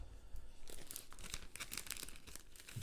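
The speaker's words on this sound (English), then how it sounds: "Taking the tape off." Tape is peeled off a plastic comic book bag, a close, quiet run of crackling, tearing rips and crinkles that continues steadily with short bursts.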